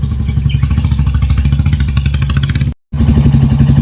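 A Bullet motorcycle engine runs steadily with a rapid, thumping putter and a metallic clatter, loud and close, briefly cutting out for a moment near the end.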